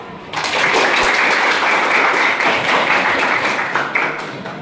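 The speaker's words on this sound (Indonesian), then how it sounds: "Terima kasih atas support yang diberikan kepada calon ketua dengan memberikan aplaus" An audience at a high school student council event claps for the three candidates, a burst of dense applause that starts abruptly, holds steady for about four seconds and then thins out, with no talking.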